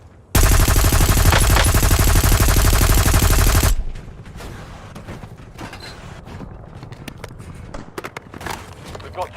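Sniper fire in Warzone: a loud, dense burst of rapid gunfire for about three seconds, then quieter scattered clicks and footsteps, with a voice talking over the game sounds.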